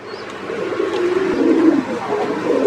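A pair of brown-faced pigeons in cage thirty-three of an outdoor pigeon farm give a low, throaty cooing that rolls along steadily and close by, with no one speaking.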